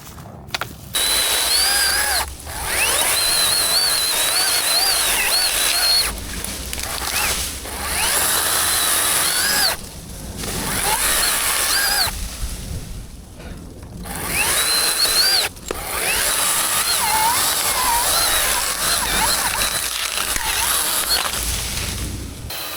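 A cordless electric chainsaw cutting a tree whines in long bursts of cutting, pausing briefly between runs, loud and close with a high buzzing tone.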